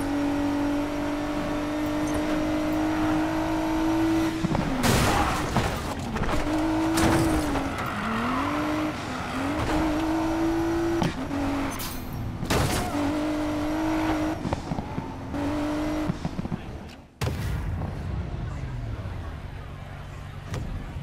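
A racing car driven hard in Need for Speed Payback, a loud close engine whine rising and dropping through gear changes with bursts of tire squeal and skids, voices talking over it.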